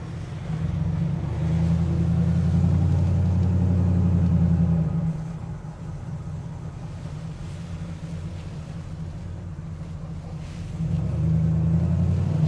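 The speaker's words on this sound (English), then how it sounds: "What an engine sound, Roy." A 1963 Studebaker Avanti engine runs steadily with a deep, low rumble, swelling louder at the start and again near the end, with no talk over it.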